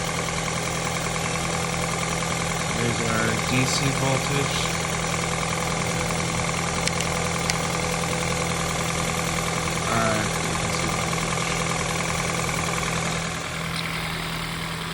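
A Toyota car engine idles steadily in a workshop during sensor testing, a constant hum with a light rhythmic knock, while someone talks briefly over it.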